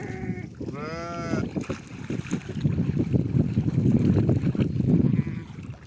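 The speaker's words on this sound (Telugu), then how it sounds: "రెండు గొర్రెలు బాయిలకి పడి వీడే తీస్తాను." Sheep being made to swim in a well, with a clear, wavering bleat early on and another brief bleat near the end, over steady splashing water and wind noise.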